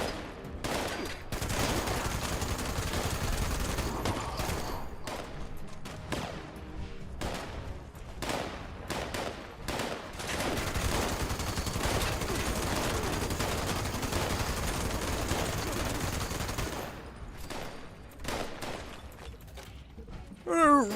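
Enemy gunfire in Fallout 76 rattles in dense, overlapping bursts and volleys for most of the stretch, loud and sustained with brief lulls, a voice talking over parts of it.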